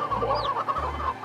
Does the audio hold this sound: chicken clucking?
yes